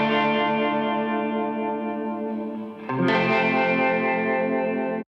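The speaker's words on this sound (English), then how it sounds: "this tremolo guitar" Dry, unprocessed tremolo electric guitar from a rock song mix, sustained chords pulsing steadily and loudly, with a new strummed chord struck midway before ringing out and cutting off.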